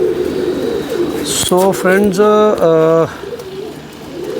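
A kept pigeon gives a close, clear run of several rhythmic coos in a row, set against a low hum of background noise, while someone speaks briefly before and after the calls.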